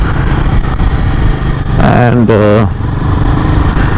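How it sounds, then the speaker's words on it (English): Royal Enfield Guerrilla 450 motorcycle engine running steadily with a low, thumping note close by. Partway through it briefly swells and dips, and a rider's voice talks over it. "The engine has that locomotive kind of feel"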